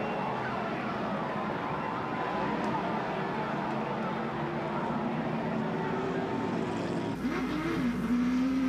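Race car engines roar at Talladega during the 1996 NASCAR Diehard 500, a sustained loud drone under an announcer's commentary, with an engine pitch rising near the end.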